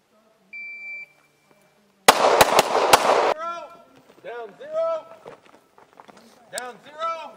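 A rapid string of about five sharp, loud pistol shots rings out at a Linn County IDPA shooting match, preceded by a shot-timer beep and followed by voices and scattered footsteps.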